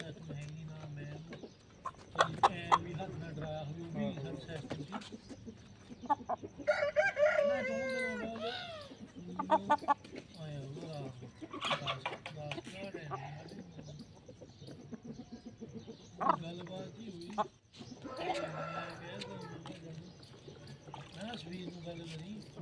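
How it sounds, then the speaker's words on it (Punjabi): Hens squabble nearby with agitated clucks, squawks and a rooster-like crow breaking out in bursts, mixed with voices talking and scattered knocks and rustling. "ਮੁਰਗੀਆਂ ਲੜ ਪਈਆਂ"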